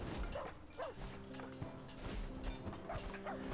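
A dog in a video game gives a few soft barks and yips with faint whimpers, heard quietly over a steady game background.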